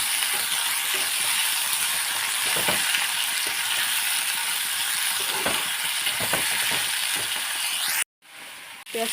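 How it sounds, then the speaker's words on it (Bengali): Onion frying in a pan while cooking chicken, a steady loud hiss and sizzle with occasional soft clicks of stirring, cutting off abruptly near the end. "পেঁয়াজটাকে একটু লাল লাল করে ভেজে নিই"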